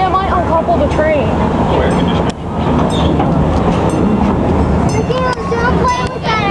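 The Busch Gardens amusement park train rumbles along with a steady close, loud rolling roar and wheel squeals, while people talk over it throughout.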